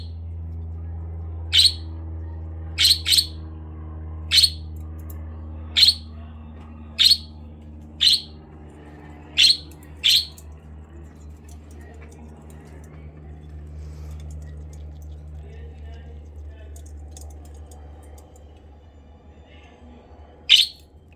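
Two pet budgies give short, bright chirps, about nine close together in an uneven run and then one more much later, over a low steady hum of room noise.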